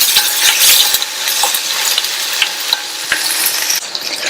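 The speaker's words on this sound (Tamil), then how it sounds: "இந்த வெங்காயம் லைட்டா வதங்கட்டும்." Chopped onions, curry leaves and dried red chili sauté in hot oil in a pan, giving a loud, continuous sizzle with scattered stirring scrapes and spatula clicks close up, with no talk.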